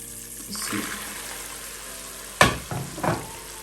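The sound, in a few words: popcorn being mixed into cooking sugar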